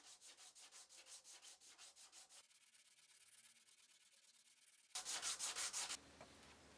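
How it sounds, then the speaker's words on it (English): Wood scrap pieces are smoothed by hand with 220-grit sandpaper in quick rhythmic back-and-forth strokes, close and soft, first a run of strokes, a quieter pause, then a short louder burst of rubbing. "Smoothing the pieces with 220 sandpaper."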